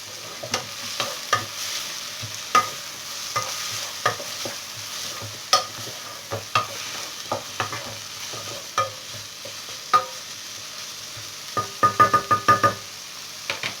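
Chicken pieces sizzling and frying in a pan, with a steady crackle broken by repeated knocks and scrapes of a utensil stirring. A quick burst of clatter comes near the end.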